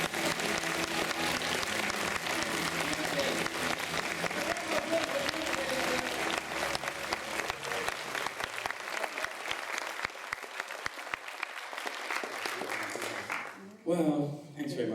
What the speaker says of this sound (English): Lovely round of applause, and I do feel validated by it.